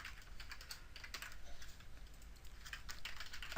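Rapid, irregular keystrokes on a computer keyboard while someone writes networking code, a close, steady patter of clicks running without pause and with no voice.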